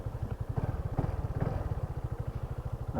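A BMW C400GT scooter's engine fires up and settles into a steady, close idle with a rapid, even pulsing throb and some mechanical clatter, with no voices.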